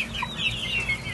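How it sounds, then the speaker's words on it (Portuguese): Backyard chickens cluck softly in a home coop, a steady low murmur of hen calls close by with no talking. "Aqui as nossos franguinhos,"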